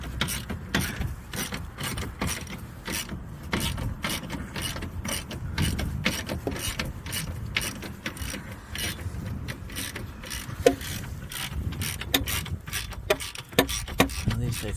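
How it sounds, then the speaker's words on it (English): A hand ratchet tightening control arm bolts on a Toyota Camry, with rapid steady pawl clicks repeating close up and a few sharper metallic knocks near the end. "Now I'm just going to tighten them all down."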